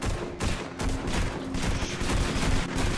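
Rapid gunfire fills a wasteland battle in the Roblox game Purgatory, with dense, overlapping shots crackling steadily and almost without pause.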